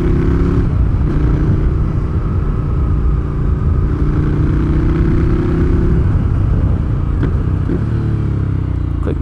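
A Ducati Scrambler V-twin motorcycle engine runs loud and close throughout, revving up and down through the gears with steady throaty rumble and rising, falling pitch.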